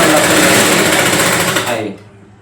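A sewing machine stitches a quarter-inch seam in one close, loud, continuous run that winds down and stops near the end.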